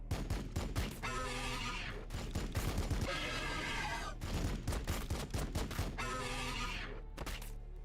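Units in Warhammer 40K Battlesector open fire, loud repeated volleys of weapon shots in rhythmic bursts with short gaps, a few sharp single cracks between them.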